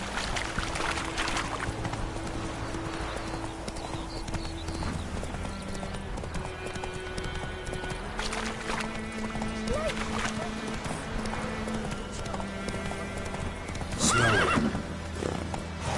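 Horse in The Witcher video game clip-clopping along with rhythmic hoofbeats and a loud neigh near the end, while someone talks over the game sound.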